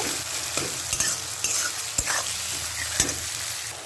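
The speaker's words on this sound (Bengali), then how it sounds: "পেঁয়াজটাকে একটুখানি আমি হালকা একটু ভেজে নেব।" Chopped onions frying lightly in a pan, loud continuous sizzling close by, with sharp spatula scrapes and knocks roughly every second as they are stirred.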